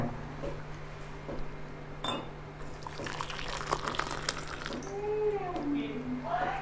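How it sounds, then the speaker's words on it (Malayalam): Sugar syrup pours in a thin stream for a mocktail, brief and soft, with a short splashy burst in the middle and a voice talking nearby. "ഇത് ഒഴിക്കാൻ പോകുന്നത് ഷുഗർ സിറപ്പാണ്."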